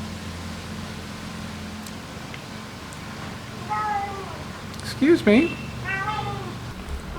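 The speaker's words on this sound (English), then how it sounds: "been visited by a cat" A cat meows several times close by, rising and falling cries with a couple of louder calls near the end, over steady background hiss; a person speaks briefly.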